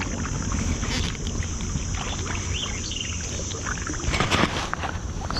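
A boat is paddled on Goose Creek in Vestal, with steady water swishes and splashes over a constant outdoor background and wind buffeting the microphone, slightly busier toward the end.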